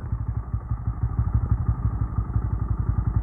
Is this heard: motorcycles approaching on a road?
yes